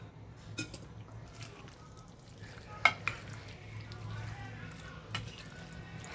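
A spoon stirs a healthy breakfast salad in a home kitchen bowl, with soft scraping and a few sharp clinks against the bowl over a low hum.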